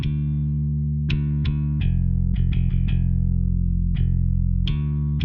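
Bass guitar run through a Tim Petherick Sum 100a compressor preamp with even harmonics at maximum and odd harmonics slightly added, giving a thick, sustained, saturated tone with a series of plucked note attacks and no talking.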